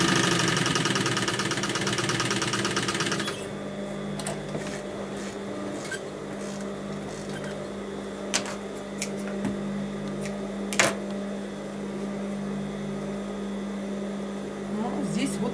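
A sewing machine stitches natural leather pieces at a 2 mm stitch length. A loud, steady motor hum runs for the first few seconds, then the machine keeps running more quietly with a few sharp clicks.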